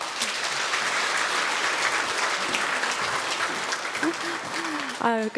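A studio audience claps loudly in sustained broadband applause to welcome a Chungnam National University public administration professor onto the stage at a policy concert, and a voice speaks briefly near the end.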